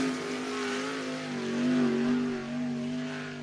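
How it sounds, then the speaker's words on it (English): A 360 sprint car on a single-car qualifying lap at Cottage Grove Speedway, its engine note droning steadily and rising and falling as it works around the track, heard at a moderate distance. "360 sprint cars set to go for single car qualifying"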